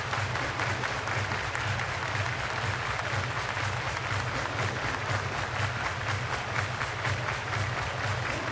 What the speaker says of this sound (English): Crowd really starting to get into it.